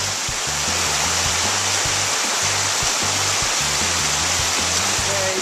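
Brook water rushes along the Lillian Brook trail in a loud, unbroken hiss, while a low rhythmic hum pulses steadily underneath and no one speaks.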